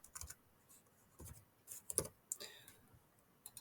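Sparse, faint keystrokes and clicks as Python code is typed on a computer keyboard, coming in irregular short bursts with quiet pauses between them.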